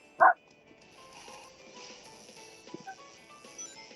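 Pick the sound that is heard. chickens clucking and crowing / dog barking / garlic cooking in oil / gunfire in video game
dog barking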